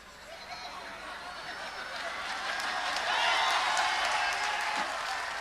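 An audience at a Hindi comedy poetry show claps, the applause swelling steadily and peaking toward the end, mixed with scattered laughter and crowd murmur.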